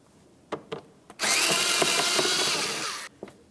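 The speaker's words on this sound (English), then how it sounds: "Let's start by using a Phillips head and removing our 5 Phillips head screws" A power screwdriver whirs for about two seconds, backing a Phillips head screw out of the fender liner on a 2010-2013 Ford Transit Connect, with a few light clicks and taps before and after.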